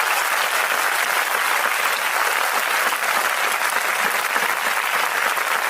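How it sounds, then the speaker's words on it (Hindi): A church congregation claps together for Jesus during a Hindi-language Christian sermon, a dense, steady roar of applause that holds loud and even for the whole stretch with no voices over it. "एक बार ऊपर ताली बजाएंगे यीशु जी के लिए।"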